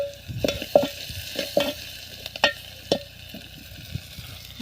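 Coarse ground peanut and chilli powder fries in a mustard-seed tempering, with a close, steady sizzle broken by repeated scraping strokes of a ladle against the pan.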